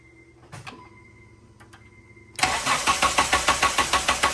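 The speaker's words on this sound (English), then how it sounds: "Give it gas while you're starting it." A car engine cranks and catches after a quiet stretch with faint clicks, then idles roughly with a steady pulsing rhythm, close and fairly loud.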